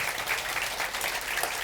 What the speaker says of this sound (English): giving me a round of applause for interrupting the first day of my holidays is fine